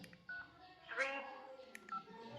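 An itel keypad mobile phone sounds electronic key tones as number keys are typed, with a synthetic voice reading out each digit; short tonal beeps and brief spoken digits recur close up over about two seconds.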